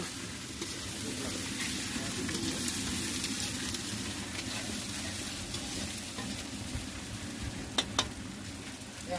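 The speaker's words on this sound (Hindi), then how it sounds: "तो अभी जो है संगवारी हो पूरा फ्राई हुआ थे मसाला मन आप मन देख सकत हो।" Masala with ginger garlic paste fries in a pan at an outdoor mutton picnic and gives a steady, moderate sizzle. A spoon stirs and scrapes through it, with two brief sharp clinks near the end and no speech.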